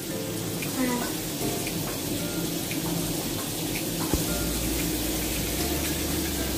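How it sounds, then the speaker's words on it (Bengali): Tap water runs steadily into a sink as a child washes his hands at home, a continuous close splashing wash that goes on throughout with faint household background. "হাতটা ধুয়ে নে ভালো করে।"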